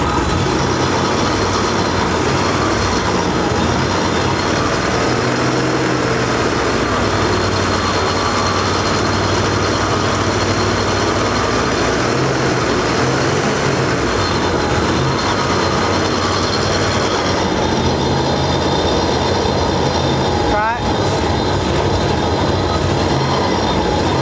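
A 1957 Chevy Bel Air engine, restarted after sitting 35 years, runs rough and cold with the choke wide open. It gives a loud, close, continuous roar with a ragged, uneven undertone that lasts throughout without speech.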